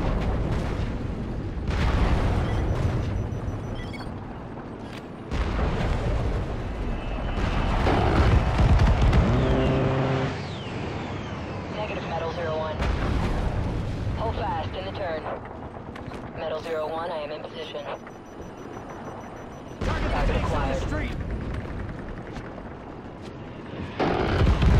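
Heavy booms and rumbling shell explosions from tanks on a street in the Call of Duty: Modern Warfare 3 campaign roll under steady radio chatter and shouting, loud and close with sustained battle noise.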